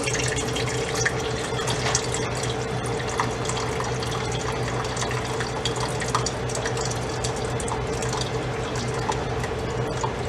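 Fat from cooked ground beef for enchiladas drains out in a steady trickling, dripping pour, a continuous close liquid wash with no talking.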